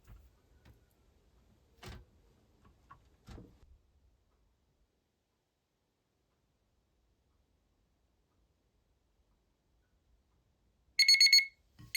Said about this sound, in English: Make a 5-minute alarm